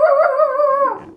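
A dog gives a short, close howl lasting about a second, a wavering tone that slides downward and fades at the end.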